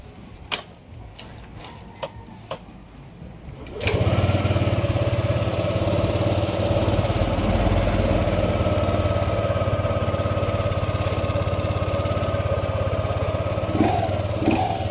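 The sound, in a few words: Yamaha Aerox 155 V1 scooter engine running after spark plug change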